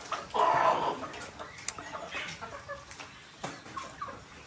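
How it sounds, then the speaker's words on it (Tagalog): Backyard chickens, including several roosters, cluck and call at close range, with one louder burst early followed by scattered softer clucks over quiet farm ambience. "Ito yung ating mga manok."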